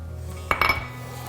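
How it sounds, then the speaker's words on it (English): Ingredients for a noodle kugel are stirred together in a bowl: a few quick metallic clinks and scrapes of a utensil against the bowl, close and brief. "And then you're gonna stir all of that together."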